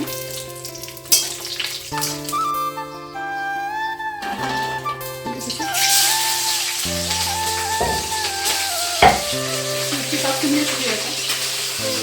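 Ingredients for chivda frying in hot oil, a continuous soft crackling sizzle that runs under a bed of steady tonal background music and intensifies partway through.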